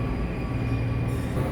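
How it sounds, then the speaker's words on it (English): A Washington DC metro train rumbles steadily through a station, a loud low roar with a faint high squeal of wheels, with no talk over it. "we don't have to take that train because that's Virginia bound"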